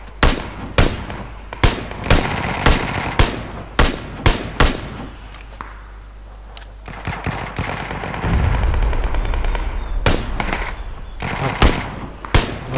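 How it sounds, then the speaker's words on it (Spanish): Gunfire in PlayerUnknown's Battlegrounds on the Sanhok map: loud, sharp single shots in an uneven rapid series, a brief lull with a rumbling passage, then more cracking shots, with no talk over them. "Ustedes tienen uno atrás que les está disparando desde hace rato"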